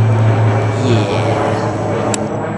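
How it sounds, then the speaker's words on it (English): An airplane passes overhead outdoors at a firing range, a steady low drone filling the background, loud and sustained. "And there is a plane flying right over."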